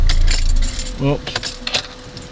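Car keys jangle and clink near the microphone in a short metallic burst, with a brief voice in the middle.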